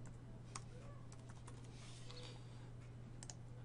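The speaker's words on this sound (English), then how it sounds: "it's just a matter of typing in this little spot" Keystrokes on a computer keyboard while entering a blog title, a quiet scattering of light clicks in small bursts over a steady low hum, close and faint.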